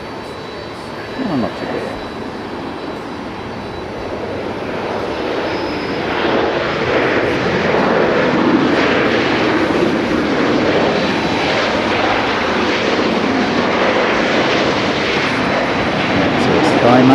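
An airliner landing at Haneda airport makes a broad roaring jet-engine rush that swells and holds loud for many seconds, with someone briefly speaking over it near the start.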